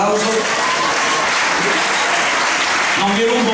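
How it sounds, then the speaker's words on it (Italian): An audience at a Miss New Look 2015 pageant presentation claps loudly and continuously, a thick sustained wall of applause with a few voices calling out over it. "Facciamogli un applauso."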